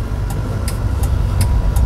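A manual car's engine idles during a road driving test for a class 1 ordinary licence, a close, steady low rumble with faint regular ticking on top and no voices.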